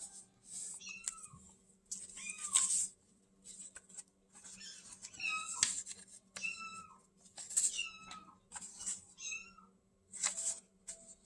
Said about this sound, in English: now I've got a kitten mewing in the background